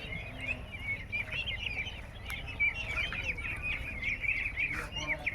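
Ducklings and chicks at a village poultry seller in Darrang, Assam, chirping continuously in a busy, overlapping high peeping chorus, fairly close, with a low background rumble.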